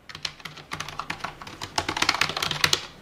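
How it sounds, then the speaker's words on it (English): Rapid clicky keystrokes from the full mechanical keyboard of an Aorus X9 gaming laptop, close and crisp, typing in quick irregular bursts that grow busier toward the end. "there's a full mechanical keyboard on this bad boy"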